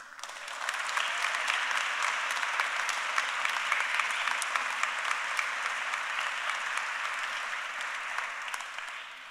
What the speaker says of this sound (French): Un tonnerre d'applaudissements pour Ria Carbonès